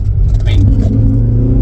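A Toyota Altezza's engine pulls in second gear, a steady droning rumble from inside the car under continuous talking.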